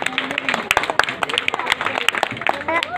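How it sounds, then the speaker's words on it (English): An audience claps at an apartment fancy dress competition, with scattered hand claps spread through the moment while a voice talks over them. "Claps, claps."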